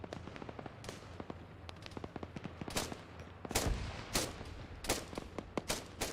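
Rapid gunfire from an Arma military video game match crackles in sharp, irregular bursts and single shots, some close and loud, others more distant, with no talk.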